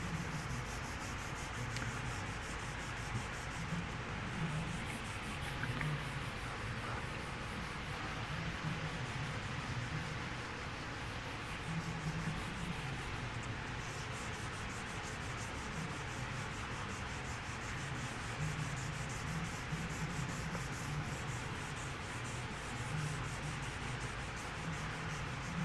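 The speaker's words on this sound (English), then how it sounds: "I'm sanding off the edge" Steady, continuous sanding of a painted edge with a rhythmic rubbing scratch, close and even, running for a long stretch without pause.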